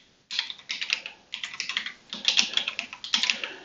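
Continuous typing on a ZSA Voyager computer keyboard, a close, steady patter of quick key clicks in bursts with brief pauses, no voices.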